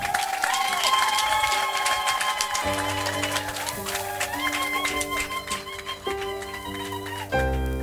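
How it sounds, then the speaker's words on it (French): Wedding guests clap for a newly married couple at a French-language civil ceremony, a steady crowd applause running the whole stretch beneath sustained music tones, fairly loud and close. "Applaudissez."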